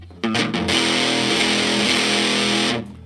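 Gretsch Broadkaster electric guitar played through heavy distortion, a single loud sustained chord struck and left ringing for a few seconds before being cut off.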